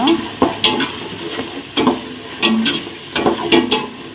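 Two small tomatoes sautéing in a pan for vegetable biryani: a steady close sizzle broken by repeated scraping stirs of a spoon against the pan, coming in uneven bursts about every second.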